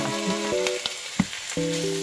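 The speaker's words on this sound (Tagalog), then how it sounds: "Saute, garlic." Garlic sautéing in hot oil for ampalaya con carne, a close, steady sizzle and crackle with a few sharp pops and spatters, plus a brief utensil clink near the middle.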